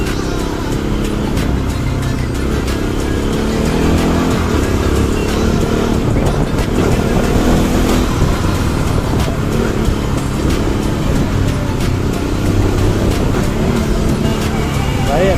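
Riding a Bajaj NS200 motorcycle through road traffic, the engine hums steadily up close while surrounding vehicles and road noise form a continuous dense roar.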